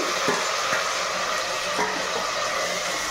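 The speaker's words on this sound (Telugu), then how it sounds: "ఇప్పుడు టమాటా ముక్కలు వేస్తున్నానండి." Tomato pieces sizzle in a hot pan over curry leaves, a steady close frying hiss with a few faint stirring clinks.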